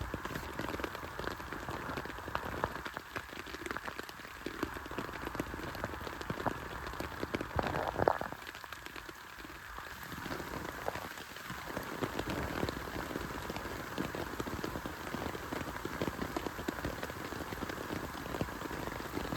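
Steady rainfall patters on surfaces nearby, a dense continuous hiss with a few louder drips and brief softer lulls.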